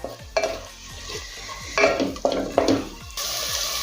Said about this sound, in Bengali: মশলাটা এখন খুব ভালোভাবে কষিয়ে নেবো